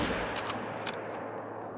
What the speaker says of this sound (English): Beautiful shot right there.